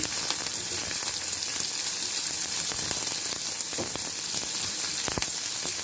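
Chopped onion and crushed garlic fry in hot oil for a bitter gourd palya, giving a steady, even sizzle with scattered crackles and pops, heard close and without talk.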